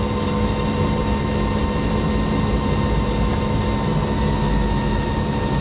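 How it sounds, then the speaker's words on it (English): Boeing 747 in the X-Plane 11 flight simulator during landing approach with flaps extending, heard as a loud, steady engine and airflow drone with constant tonal hum, unbroken throughout. "I'm going to put all the flaps down."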